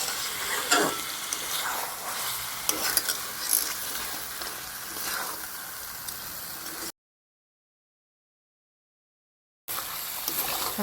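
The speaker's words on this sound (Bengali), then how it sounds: "মাংসটা প্রায় কষে আর একটুখানি সামান্য হবে।" Mutton sizzles and fries in a pan while being stirred, with steady crackling and scraping throughout, broken by a few seconds of silence before the frying resumes.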